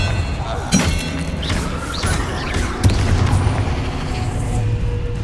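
Spell blasts in the Hogwarts Legacy video game on PS5: loud booming, shattering impacts that strike at irregular intervals over a dense, steady din of combat.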